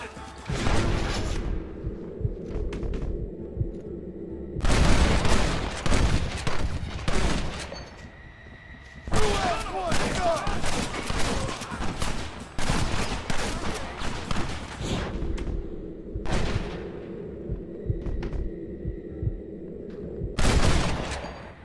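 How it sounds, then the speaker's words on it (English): Bursts of gunfire in the Western video game Red Dead Redemption 1, with a shootout at a fortified gate where attackers are covered while explosives are set. Dense volleys alternate with quieter stretches and swooshing passes, all loud and close. "You and I'll provide the cover fire."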